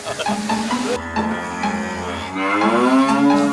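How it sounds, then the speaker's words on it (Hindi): A buffalo moos in a long, drawn-out call with a rising, wavering tone, close and clear, with no talking. "भैंस है भाई ये"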